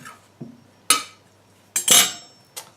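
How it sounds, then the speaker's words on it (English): A knife blade cuts through baguette dough on a hard board, giving several sharp, separate clicks and knocks spread unevenly with quiet gaps between them. "I've got a knife and I'm just going to cut it into 3 bits."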